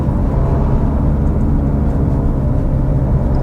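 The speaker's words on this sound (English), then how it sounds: "Might be a bit of tyre noise or something." Steady low road drone from a Dacia Sandero Stepway while driving, a continuous rumbling hum of tyre or wheel bearing noise with no talk, even in level throughout.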